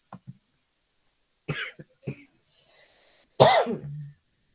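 A few sharp coughs spaced apart, one short cough early, a couple in the middle, then a louder harsh cough near the end, close to the microphone.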